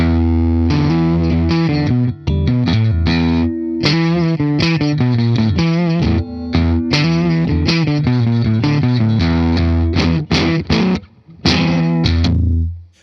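Glut Cheeks fuzz pedal on electric guitar with the thickness knob turned, giving a loud, thick, saturated tone as choppy chords and riffs are played steadily for several seconds before the last notes ring off.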